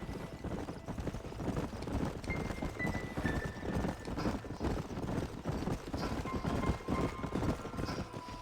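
Horse hooves clip-clop in a steady walking rhythm through the Red Dead Redemption Western game world, as riders move together at a moderate level amid faint ambient game sounds.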